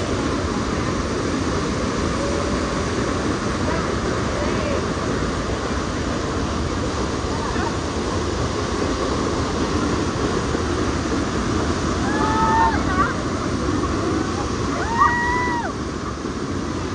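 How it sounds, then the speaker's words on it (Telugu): Water roars in a loud, steady rush at the Cave of the Winds below Niagara Falls, continuous and close, with faint voices calling out over the noise. "that is the cave of wind guys"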